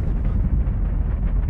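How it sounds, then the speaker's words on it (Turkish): Spacecraft rocket ignition and launch of a gamma-ray burst observation craft, heard as a loud, steady low roar filling the whole stretch without a break. "Ateşleme başladı ve gama ışın patlamalarını araştırmakla görevli uzay aracı kalkış yaptı."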